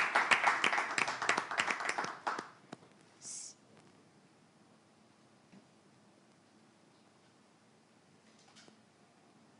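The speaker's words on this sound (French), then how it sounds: "nous accueillons notre candidate avec des applaudissements plus nourris" An audience applauds to welcome a female candidate, with dense, loud clapping for the first two seconds that quickly dies away, leaving a few scattered claps and a quiet room.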